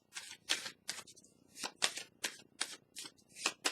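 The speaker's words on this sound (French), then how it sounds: "Je vais déposer une petite carte pour le signe du Capricorne" Tarot cards being handled on a table in a quick, uneven run of crisp papery snaps and slaps, close and clear with quiet gaps between bursts and no talking.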